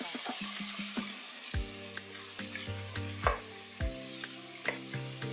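Peas frying in a pot give a steady sizzle, broken by sharp clanks and scrapes of a utensil stirring against the metal.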